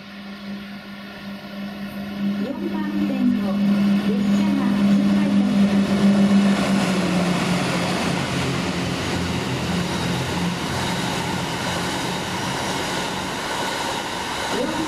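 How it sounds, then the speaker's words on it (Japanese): Cassiopeia sleeper express train rushing through Kita-Hiroshima station, a loud sustained rumble and rail roar that builds and holds, with a station announcement voice heard over the passing. "4番線を列車が通過いたします。"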